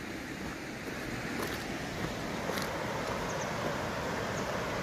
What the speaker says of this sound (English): Love to hear the sound of that river.